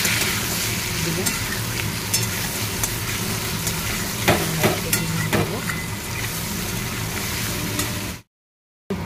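Spiced potatoes sizzle steadily in a hot pan while a utensil scrapes and stirs them in several distinct strokes, the frying hiss continuous and close before cutting off abruptly near the end.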